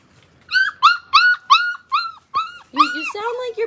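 A puppy gives a run of high, evenly spaced whimpers and yips, about seven close, loud cries in a row, ending in a more drawn-out whining yelp.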